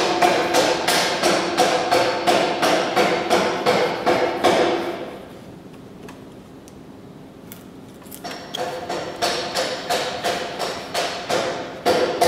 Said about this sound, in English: But you can also go back to your chisel and just nice and easy chamfer those corners.